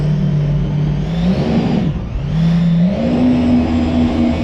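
A Formula A2 water-going car engine revving out on the sea at Long Beach Resort: loud, close motor drone that dips briefly, then climbs in pitch again as the throttle opens.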